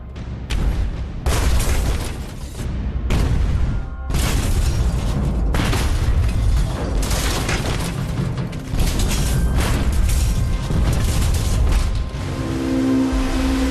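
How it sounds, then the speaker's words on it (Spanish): A second wave of depth-charge explosions attacking a submerged World War II submarine, loud booming blasts and rumbling bursts one after another, close and continuous with metallic rattling. "El atacante lanza un segundo bombardeo."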